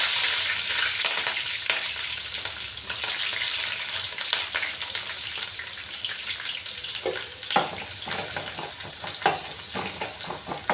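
Onion and chilli fry for chicken curry in a pan with a loud, continuous hissing sizzle. Occasional stirring scrapes and clicks come through close up.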